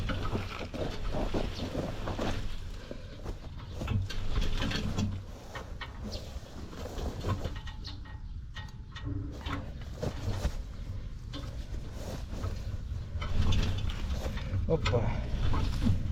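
A Forte 1035-3 walk-behind tractor's engine runs steadily, a rough continuous drone with wind buffeting the microphone, while someone talks over it.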